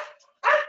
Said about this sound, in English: Sorry about that, guys. That was my dog.